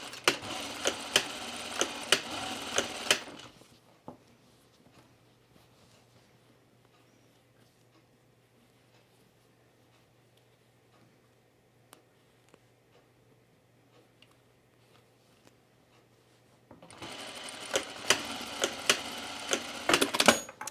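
A sewing machine stitches dress fabric in two fast, steady bursts at the start and end, separated by a long near-silent pause with only faint ticks.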